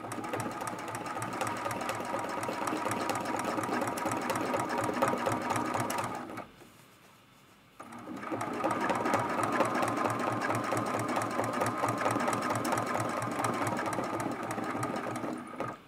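A sewing machine runs continuously while quilting scrolled areas of an art quilt, its fast, even needle chatter close and steady, with a brief pause partway through before it resumes at full speed.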